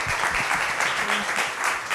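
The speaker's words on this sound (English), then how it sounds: "Can you please join me in just giving them a round of applause?" Audience applause fills a hall after two presenters finish sharing at an evening event on global mental health innovation, a steady dense clapping that runs throughout at even loudness with a faint voice beneath.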